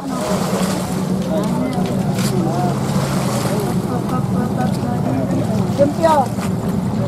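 Fishing boats crowd a harbor at Talibon in the Philippines near high tide, with a steady wash of water and wind noise, low engine rumble and distant voices blending into a continuous harbor din.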